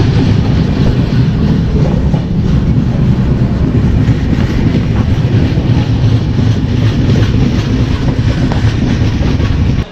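The Tamralipta Express, a passenger train running from Howrah to Digha, rumbles loud and steady from on board, with continuous rolling wheel noise and faint rhythmic clatter on the tracks and no talk.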